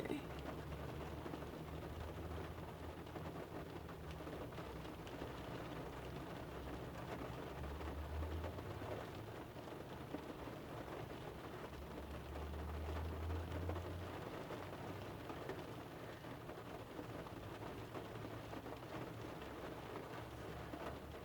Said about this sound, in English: it's raining, so if you hear that rain, I love it. I love the sound of rain